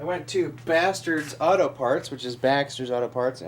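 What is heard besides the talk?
No everyday noise stands out behind the speech.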